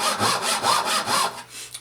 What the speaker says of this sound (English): So Japanese saws, as I said, cut a little bit simpler here on the pull stroke.